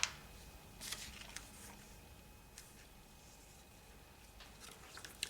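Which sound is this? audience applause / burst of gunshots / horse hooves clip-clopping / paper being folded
paper being folded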